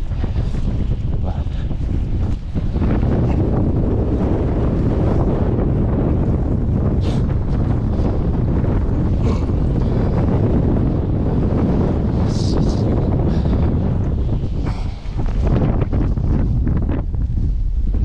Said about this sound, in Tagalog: Malamig mga kaloko, mahangin lang siya talaga.